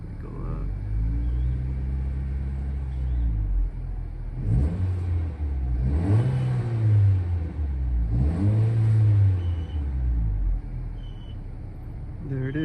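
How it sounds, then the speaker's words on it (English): A 2022 Honda Civic Si with a resonator delete kit revs repeatedly with the door open, several rising and falling rev sweeps over a deep idle rumble, close and loud. "I'm just gonna do my door open and revving it so you guys could hear."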